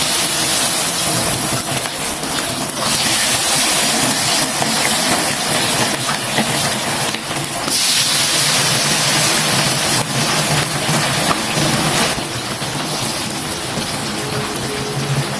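Loud, steady sizzling and crackling, like food frying in hot oil, with a dense hiss that swells and eases slightly.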